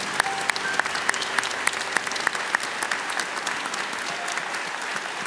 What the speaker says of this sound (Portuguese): Vamos aplaudir esses queridos